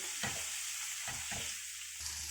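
Onion-tomato masala frying in a pan for Indian-style scrambled eggs, a soft continuous sizzle broken by a few scraping stirs of a spatula, close and alone.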